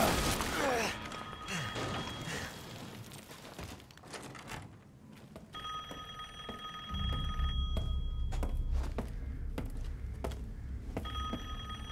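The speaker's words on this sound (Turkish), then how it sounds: "Telefon çalıyor." A telephone ringing inside a house in Resident Evil Village, several clear electronic trills with pauses between them, preceded by some thuds and movement and set against a low room hum.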